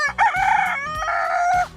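A black fibromelanosis chicken rooster crows once, loud and close, in a single long harmonic call with a short rising start and sustained tail, with no other sound around it.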